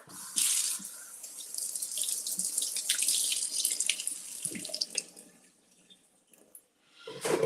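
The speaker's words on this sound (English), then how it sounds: "I'm just going to put these under some water to clean them" Kitchen tap water runs steadily over blueberries being rinsed for pancakes, a bright continuous splashing hiss that tapers off near the end.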